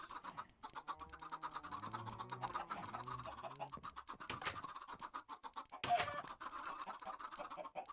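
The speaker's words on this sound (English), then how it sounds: "Oh, I heard a chicken die." Minecraft chickens, modded Tekkit game, cluck in a quick run of game sound effects as one is killed, with a sharp burst near the end and no voices.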